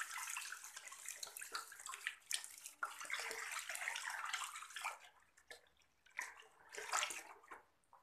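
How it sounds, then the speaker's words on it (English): Water pours into a 15-liter bucket, a continuous splashing gush that rises and falls as the flow shifts, close and moderately loud, with brief lulls and no talking. "15 liters of water in this bucket. Capacity of this bucket is 15 liters, so I am pouring this"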